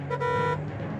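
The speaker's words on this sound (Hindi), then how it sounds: "देखिए हॉर्न बजाना बंद कीजिए," A single short car horn honk blares nearby, loud and brief, followed by a lingering engine hum.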